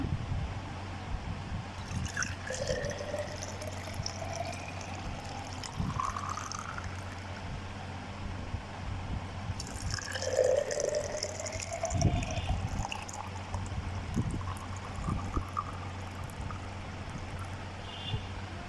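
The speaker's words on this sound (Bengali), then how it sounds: "এখন আমি এখানে দুটা মগ এখন ঢেলে নেব" Homemade lychee juice is poured into two mugs in a steady stream, with the pitch rising as each mug fills. The second pour starts about halfway through, and the steady liquid sound plays alone without speech.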